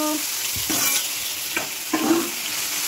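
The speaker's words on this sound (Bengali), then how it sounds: "তেলটা গরম হয়ে গেছে, তো এবার এটাকে ভেজে নেব" Batter paste sizzling in hot oil in a home kitchen, a steady hiss with occasional stirring scrapes and bursts of crackle, close and moderately loud.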